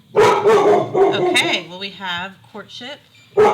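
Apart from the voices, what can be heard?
dog barking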